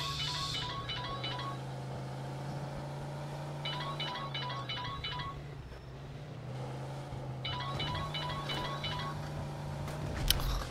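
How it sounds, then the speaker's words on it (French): Telephone ringing in the video game Mafia 2, repeated bursts of electronic ring tones sounding three times over a steady low car engine drone, moderately loud and close. "qu'est-ce qu'il y a ce téléphone?"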